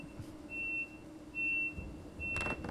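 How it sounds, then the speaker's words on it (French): Train door warning beeps in the Train Sim World 3 simulator: three evenly spaced electronic tones over a low idling hum, followed by a short burst of mechanical clatter. "Par contre là, il y a le bip des portes."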